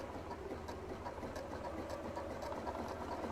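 A sewing machine runs steadily, stitching fabric with a wide zigzag stitch for a ruffled-edge blanket, giving a continuous mechanical whir with a fast even rhythm and no talking.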